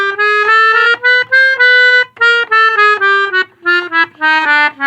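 A melodica plays a chromatic scale as a quick run of short, reedy notes stepping by half tones, each tone separated by brief gaps, close and loud.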